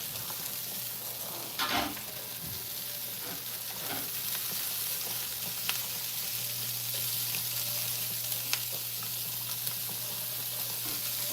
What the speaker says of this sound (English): I'm gonna add a little bit of oil to the pan right here. So I'm dropping those onions.